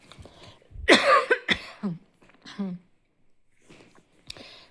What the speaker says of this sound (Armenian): չգիտես ինչի հազում եմ սենց